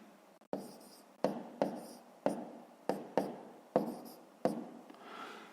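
Pen strokes write numbers on paper in a math exercise, a series of about nine sharp taps and scratches spaced roughly half a second apart, close and alone.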